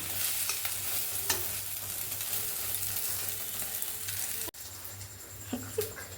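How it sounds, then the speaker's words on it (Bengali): An egg fries and is stirred in a pan, giving a continuous soft sizzle with light scraping and stirring sounds and an occasional clink, heard alone at low volume. "বিশাল রাঁধুনি ডিম ভাজছে।"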